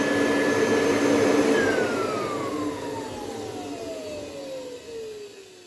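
A Kirby Heritage II vacuum cleaner roars loudly up close with a hose fitted, its whine then sliding steadily down in pitch as the motor winds down, with no speech.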